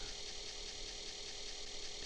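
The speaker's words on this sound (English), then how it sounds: "The noise you can hear is the disk drive going." Simulated Commodore 64 disk drive noise from the Test Drive II racing game, a steady, fairly loud mechanical hum and whir running unbroken throughout with no pauses.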